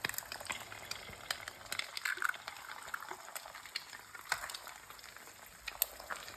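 Organic eggs cook in a pan with a faint, steady crackle and scattered light pops and ticks, quiet and close, no talking.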